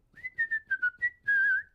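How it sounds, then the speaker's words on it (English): A singer produces whistle tones by pushing air through a narrow epiglottis aperture, giving a series of short, high, pure whistled pitches that end in one longer sustained note, heard alone and fairly quietly. "You're creating this whistle, like it's literally a whistle."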